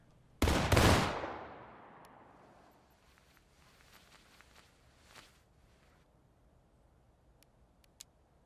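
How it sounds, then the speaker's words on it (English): A rank of soldiers fires a single musket volley in the War of Rights game, one loud ragged blast of overlapping shots that rolls away into a long decaying echo, followed by a few faint scattered pops and clicks. "That was a terrible volley."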